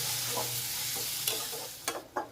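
Spiny gourd bhaji frying in a wok, steady close sizzle broken by a few soft scrapes and clatters of stirring toward the end, no voices.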